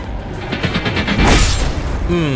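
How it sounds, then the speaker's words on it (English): Two jets collide in mid-air during a night flight over a city in Digital Combat Simulator, a loud roaring boom with crunching impact noise and rumbling debris, followed by tonal warning beeps. "Our wings sliced together like 2 samurai swords"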